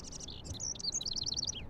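A small bird in the Life is Strange Episode 3 game chirps in a quick, bright run of high tweets, close and fairly loud, a brief warble with no voices.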